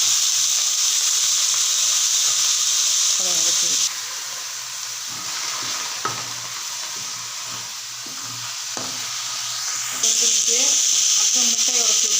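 Onions sautéing in a pan ahead of the greens for an egg stir-fry, a bright steady sizzle broken by stirring scrapes and a quieter middle stretch before the frying hiss swells again, with faint voices underneath.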